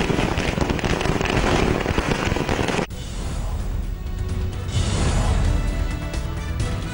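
Firecrackers bursting as AIADMK supporters in Chennai celebrate by-election trends: a loud, dense, continuous crackle of overlapping pops, with one sharp, heavy bang near the middle.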